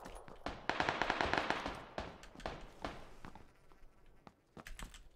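AKM rifle gunfire in PUBG, a quick rattling burst of rapid shots followed by scattered single cracks and clatter, close and moderately loud with no talking.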